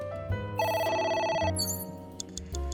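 A phone rings in the video game AI: The Somnium Files, a bright electronic ringtone with a warbling trilled phrase and layered chiming tones over a low synth backdrop, clear and close with no talking.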